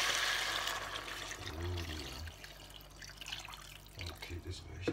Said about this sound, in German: Dann gehen wir mit Wasser dazu.